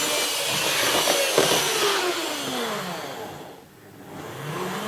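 An Atlas EMD S9 model locomotive motor runs in reverse, producing a close, steady mechanical hum with sliding tones that rise and fall as speed changes, with a brief dip near the end.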